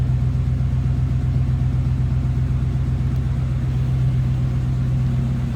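A 1952 Ford Customline Tudor sedan with a flathead engine runs at a steady idle, giving off a deep, even rumble that carries on unbroken and close throughout.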